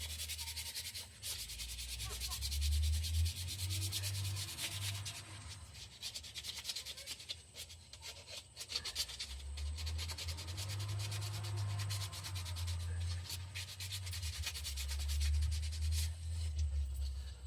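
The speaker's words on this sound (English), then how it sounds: "now this just needs to be sanded a little bit. You're just going to be sanded by hand." Hand sanding a wooden Harry Potter wand: steady, close rubbing and scratching strokes that keep on throughout in long, repeated passes, with a low background hum.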